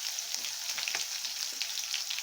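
Chopped onion, green chili and ginger fry in hot oil in a pan for chili paneer, giving a steady, close, crackling sizzle with faint stirring scrapes and no talking.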